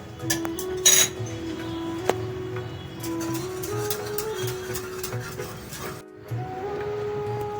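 Eggs are beaten with a pinch of salt in a bowl for a steamed egg and shrimp dish, with quiet rhythmic taps and clinks of the utensil against the bowl close by. A brief pause comes near the end, and nobody speaks.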